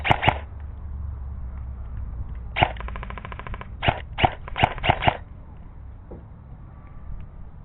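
Airsoft guns fire during a capture-the-flag game in the woods at Apache Tactical Airsoft: several sharp cracks near the start, then a rapid rattling burst, followed by a cluster of single snapping shots in quick succession before the field falls quiet.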